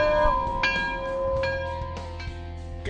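A bell rings with a clear sustained tone, struck a few more times as the ringing decays over steady background noise.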